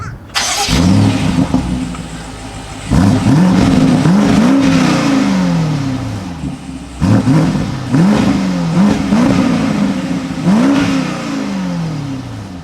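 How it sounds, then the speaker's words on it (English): A 2022 BMW X6 M50i SUV engine revs hard several times through dual exhausts, each rev rising and falling with a throaty exhaust growl, in bursts separated by brief idling. "you have nice aggressive looking dual exhausts, which sound amazing. Just take a listen."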